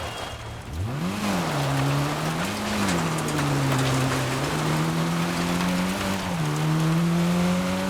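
Peugeot 309 GTI rally car on the first special stage of the 80th Orlen Rally Poland, its engine revving up and down through gear changes, loud and steady throughout with road and gravel noise underneath.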